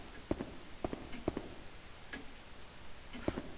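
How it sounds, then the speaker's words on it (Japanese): Footsteps in the horror video game Demento, a slow run of soft paired thuds spaced irregularly, faint and somewhat distant against a quiet, low ambient background. "足音が聞こえる。"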